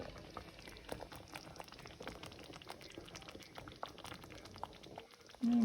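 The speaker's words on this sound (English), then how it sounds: "we'll let it simmer for at least a couple hours" Meatball sauce simmers in a pot, giving a steady bubbling, popping texture that runs continuously at moderate level with no voices, ending in a brief louder burst.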